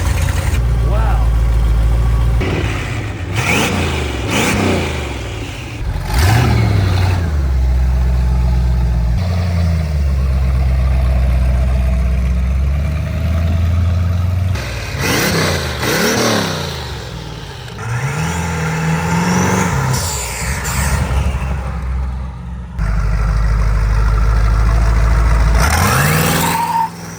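A freshly built 700-horsepower twin-turbo V8 muscle car fires up for the first time, alternating long loud stretches of rough idle with repeated sharp revs and brief pauses, with voices talking over parts of it.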